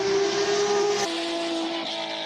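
An all-wheel-drive Audi race car launches up a hillclimb course, its engine roaring loud and near with a strong steady tone that drops in pitch as it shifts, then holds on under continuous engine noise.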